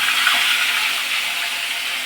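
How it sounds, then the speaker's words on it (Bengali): Fish dropped into hot oil in a kadai sizzles loudly and close, a dense, steady hiss that fills the short stretch without a break. "তেল গরম হয়ে গেছে, মাছ ছেড়ে দিলাম।"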